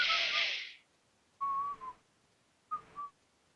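A person whistles a short tune: one longer phrase, a pause, then two brief phrases of two notes each, fairly quiet and alone.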